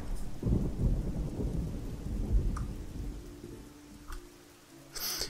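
Thunder rumbles loudly and low in the first half of a rainstorm in the game Oblivion, then fades to steady rain with a few faint distant cracks and a brighter burst at the end.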